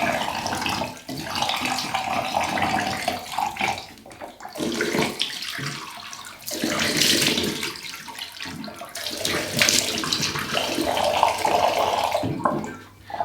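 Water splashes and runs at a sink while face cleanser is washed off, in a series of close, loud bursts separated by short pauses.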